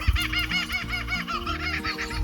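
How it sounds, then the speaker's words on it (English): Kookaburras call at a campsite in the Australian bush, their rolling, laughing cackles repeating steadily and fairly loud throughout. "We've got kookaburras going in the background"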